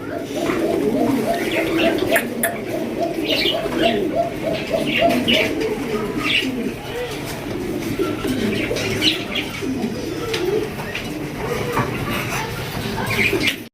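Lahori pigeons coo continuously and close by, a rolling, repeated throaty coo with faint chirps mixed in, while someone talks over them.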